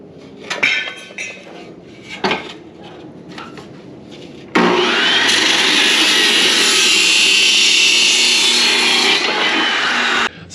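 Material being cut during budget truck fabrication: a few scattered clanks and handling knocks, then a loud, sustained high-pitched cutting whine lasting about six seconds before stopping abruptly.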